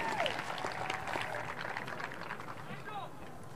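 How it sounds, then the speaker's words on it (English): Scattered clapping comes from the audience at the 2021 Calexico High School graduation, with crowd murmur mixed in. The applause holds steady and moderate before thinning out toward the end. "Let's give our class of 2021 a big round of applause"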